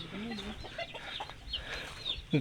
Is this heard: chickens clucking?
yes